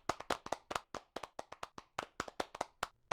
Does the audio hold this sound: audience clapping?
yes